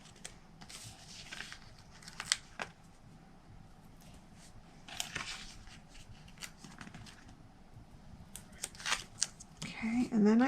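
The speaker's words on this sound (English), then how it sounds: "and then I just cut off on the edge" Scissors snipping along the edge of a paper craft piece, a large Tic Tac box project, in short bursts of crisp cuts with quiet pauses and faint handling noise between them.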